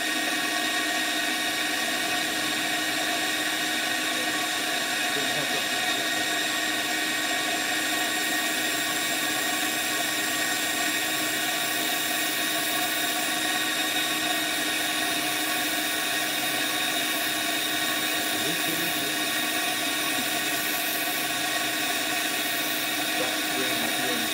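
A wood lathe turns a bowl and throws off shavings, producing a steady, loud, unbroken mechanical drone with a tonal hum that holds for the whole stretch, with no voices.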